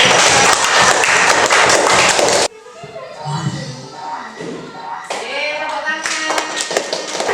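A classroom of students claps for a classmate, a burst of loud dense clapping that cuts off abruptly, followed by scattered voices and chatter.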